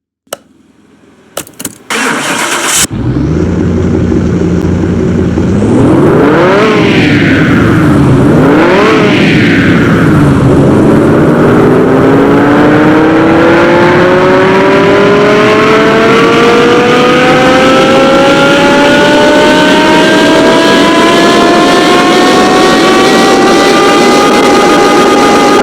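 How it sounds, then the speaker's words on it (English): Simulated Lamborghini Gallardo engine on a dyno in Car Mechanic Simulator 2021: the engine cranks and starts, blips through two sharp revs, then runs up in one long, steadily rising pull, loud and alone. "Let me go to the dyno and hopefully the engine does not explode."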